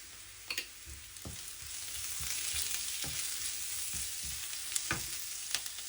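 Curry leaves and salt frying in oil in a pan, a continuous close sizzle broken by spoon knocks and stirring scrapes at irregular intervals, with no voices.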